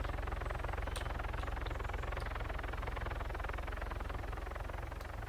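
A video game helicopter drones as a steady, loud rotor and engine roar that holds constant throughout, with a few faint clicks on top and no talking.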